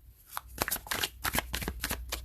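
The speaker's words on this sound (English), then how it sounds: "So I'm going to pull one for each from the Hermetic Tarot." A deck of Hermetic Tarot cards is shuffled and drawn, making a run of crisp riffling flutters and snaps, close and clear, with no voices.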